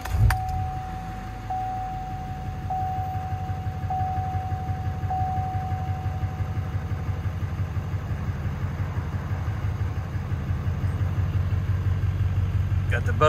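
A lifted 2015 Chevrolet 2500 HD Duramax diesel pickup cold starting, a brief starter burst followed by a steady low diesel idle that runs on, close and moderately loud.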